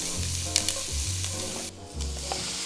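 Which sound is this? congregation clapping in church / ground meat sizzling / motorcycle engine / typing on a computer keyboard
ground meat sizzling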